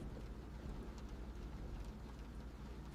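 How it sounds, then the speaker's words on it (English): Rain falls steadily at night, a quiet, even hiss with no other sounds standing out. "rain and all."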